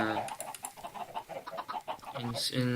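Chickens clucking in a farm video game, a series of short clucks and squawks under a steady background, with a louder squawk near the end.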